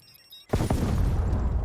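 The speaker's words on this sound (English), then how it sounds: "I am running away from that gas explosion" A gas explosion in Call of Duty bursts in after a brief quiet moment, a loud booming blast that holds a dense, roaring rumble to the end.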